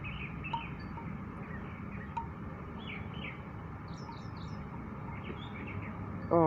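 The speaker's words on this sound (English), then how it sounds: "Oh, hear the birds. They're singing to me." Birds chirping and calling in short repeated phrases at a moderate distance, faint over a low background rumble, with a few higher tweets scattered through.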